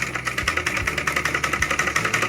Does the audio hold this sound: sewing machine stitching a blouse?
yes